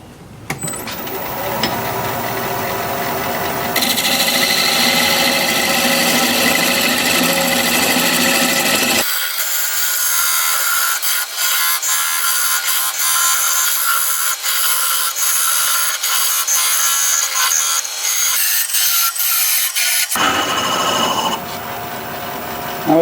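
A wood lathe spins a juniper vase at about 800 RPM while a parting tool cuts, giving a loud, continuous rasping whine that shifts in tone partway through and runs unbroken for over twenty seconds.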